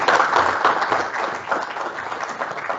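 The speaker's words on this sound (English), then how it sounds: "I'll just ask you if everyone give Wendy a round of applause" An audience at a rail decarbonisation innovation session applauds a speaker, a full burst of many hands clapping that starts loud and slowly thins out near the end.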